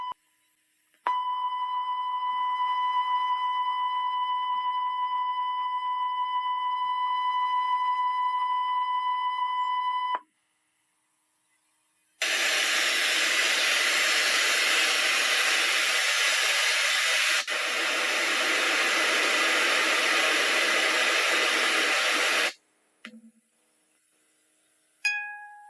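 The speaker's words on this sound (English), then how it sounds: "playing back the W1200 test signals on this machine and at the correct levels" Test signals from a W1200 test tape play on a We Are Rewind cassette player: first a steady tone with faint harmonics for about nine seconds, then after a short silence a loud, even broadband hiss for about ten seconds.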